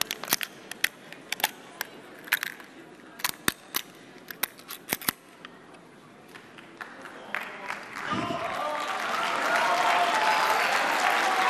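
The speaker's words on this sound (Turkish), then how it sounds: "Ama bence sıkı bir alkış hak ediyor bence" Sparse sharp clicks and snips come first, then audience applause swells and continues strongly to the end, at a talent show.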